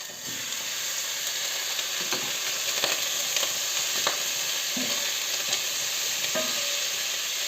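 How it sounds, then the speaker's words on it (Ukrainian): Steady sizzling of meat frying in hot lard, browning, with occasional soft scraping and stirring clicks in a pan; no voices. "І підсмажуємо його. До золотистої скоринки підсмажуємо."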